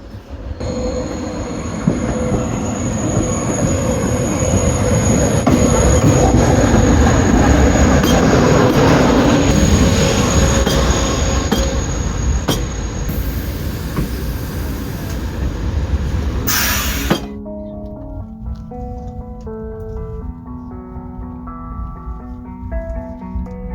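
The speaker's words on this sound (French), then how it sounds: "8534 en provenance de Hendaye et à destination de Paris-Montparnasse. Départ initialement prévu à 10h14 va entrer en gare Point B." A train from Hendaye bound for Paris-Montparnasse pulls into a station, its loud, steady rumble and wheel noise filling most of the clip before cutting off abruptly, leaving a quieter, softer tail with faint tonal sounds.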